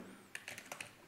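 Quick, light clicks of a computer keyboard as a short search term is typed, about six close, crisp keystrokes in a quiet room.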